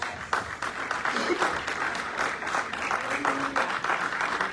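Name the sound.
congregation applauding in church worship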